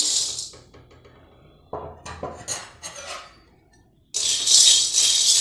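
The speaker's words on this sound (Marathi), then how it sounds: "इथे आता मी तवा घेतला आहे आणि तव्यावर हे चिंचोके घालते मी।" Hard tamarind seeds tip onto a hot tawa griddle, clattering and rattling against the metal in short scattered bursts, then a dense, steady rattling hiss fills the last second or so, close and fairly loud with no talking.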